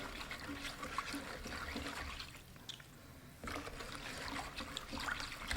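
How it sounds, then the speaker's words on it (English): Turkey brine liquid is stirred in a pot for an oven-roasted Thanksgiving turkey, giving a steady sloshing, trickling swirl of water up close, with a brief quieter lull midway before the swirling picks up again. "We're going to give it a good stir."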